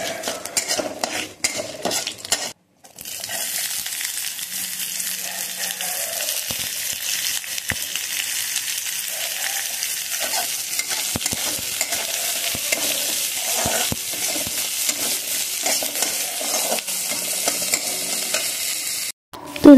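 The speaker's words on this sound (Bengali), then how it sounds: "এবার একটু নেড়ে চেড়ে কিন্তু পেঁয়াজগুলো দিয়ে ভেজে নেব লাল লাল করে।" Onions sizzle steadily in hot oil in a wok with dry red chillies and whole cumin, while a utensil stirs and scrapes against the pan in repeated bursts, close and continuous throughout.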